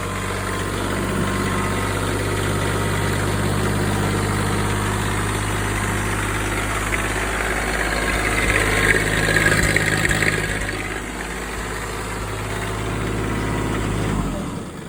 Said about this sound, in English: That is the hardest it's ever started. I will tell you, this tractor has never not started on me.